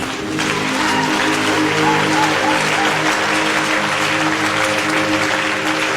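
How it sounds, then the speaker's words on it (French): A church congregation claps together in sustained, dense applause, loud and even from start to finish, with no break in the noise. "On acclame le Seigneur."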